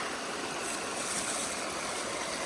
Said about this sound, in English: I can hear Hansen Creek in the background